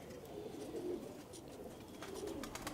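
A pigeon, a hen being shown by a breeder, coos softly in low repeated phrases, steady and fairly quiet throughout.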